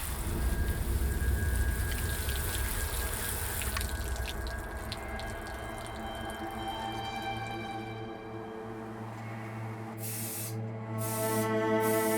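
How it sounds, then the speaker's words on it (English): Steady spraying water hiss from a shower rinsing dust off a helmet, close and continuous, with faint dripping and splashing toward the end. "But first, a shower, to remove the dust."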